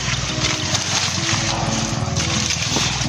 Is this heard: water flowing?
yes